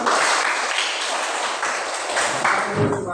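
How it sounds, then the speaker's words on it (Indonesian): A classroom of children applauds their classmates, a dense burst of quick, bright hand claps that continues steadily before a few voices and thumps come in at the end. "tepuk tangan buat teman-teman"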